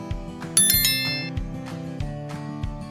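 A bright, ringing notification bell dings near the start and sustains, layered over a steady, rhythmic musical backing with a deep pulsing bass.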